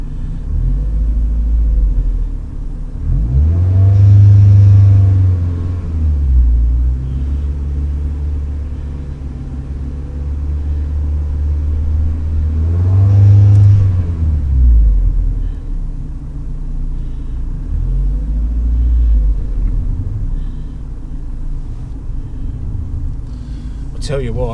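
A car engine rumbles at low speed as it is driven onto a home driveway in the dark, with two louder surges of engine noise and some talk over the steady drone.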